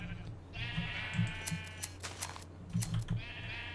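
Sheep in the Minecraft video game bleating in short repeated calls, several bleats spaced across the moment over a steady low background hum, with no talking.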